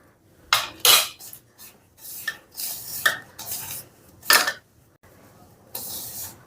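Tomato chips dough being mixed by hand in a bowl, with a series of separate rubbing, squishing and bowl-scraping bursts at close range, coming irregularly between short pauses.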